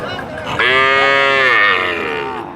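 A single long, loud cow moo rises and holds steady, then trails off, close by at a busy cattle market in Ambari, Dinajpur, with faint background murmur.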